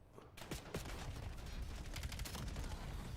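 Sniper and rifle fire in a Black Ops 7 multiplayer match, a sharp shot followed by a dense run of rapid gunfire that stays fairly loud and steady to the end.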